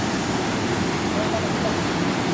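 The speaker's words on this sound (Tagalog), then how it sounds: "Tignan pa rin natin yung tubig. Medyo nagwawala pa rin." A strong river current rushes at Sta Rita Dam in Lubao, Pampanga, making a dense, continuous roar of churning water that stays close and loud throughout.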